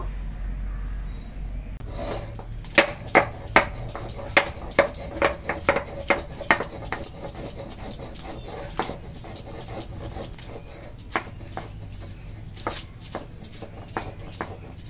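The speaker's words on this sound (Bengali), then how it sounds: "এখন আদা রসুন বেটে নেব।" Ginger and garlic being crushed into a paste: a run of sharp, rhythmic pounding knocks close by, coming quickly at first and then spacing out and softening over a low background hum.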